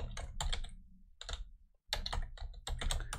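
Bursts of clicky keystrokes on a computer keyboard, typed in quick clusters with a brief pause midway, close and clear with no talking.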